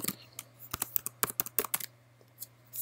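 A password typed on a Mac computer keyboard, a quick run of close, crisp key clicks in an uneven rhythm that slows to a few last taps, over a faint steady hum.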